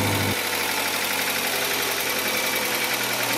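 A turbocharged Honda Accord engine, newly built and running low on oil, catches and settles into a steady, loud idle close by. It gives a constant mechanical hum with slight knocking vibration and no voices.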